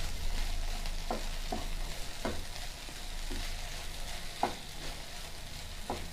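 Okra fries in a pan with chili powder and turmeric and gets stirred, giving a steady, moderate sizzle with scattered soft scraping strokes at close range and no talking.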